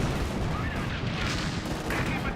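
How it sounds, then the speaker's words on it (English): Panzer IV tank cannon fire in Company of Heroes 2 amid a dense, continuous roar of battle explosions and gunfire, loud and sustained throughout without distinct separate shots. "Panzer IV firing away."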